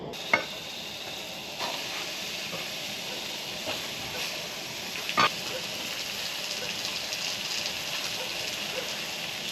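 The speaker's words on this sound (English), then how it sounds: "Now I'm going to cook up the rest of the meat" Meat fries and sizzles in a RockPot, a steady, close hiss of hot fat with a few faint clicks and knocks over a constant background rumble. Nobody speaks.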